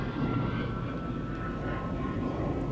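A de Havilland Vampire jet makes a high speed pass at an air festival, a steady broad roar that stays fairly loud for the whole stretch.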